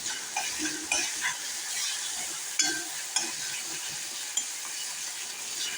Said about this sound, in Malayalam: നാടൻ തക്കാളിയാണ് അതുകൊണ്ട് തന്നെ ഒന്ന് സ്പൂൺ വെച്ചിട്ട് ഇങ്ങനെ ഒന്ന് ഉടച്ചോട്ടെ